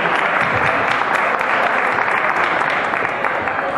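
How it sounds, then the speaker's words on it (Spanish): Audience at a talk during the Crack Bang Boom convention claps loudly and steadily throughout, a dense wash of applause with no pause. "entonces un aplauso"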